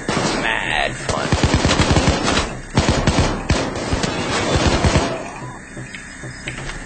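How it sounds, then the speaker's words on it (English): Rapid bursts of gunfire from Payday 2 crackle loudly in close succession, dense machine-gun volleys and single shots striking the player, with brief lulls between salvos. "Wow, I took a few bullets."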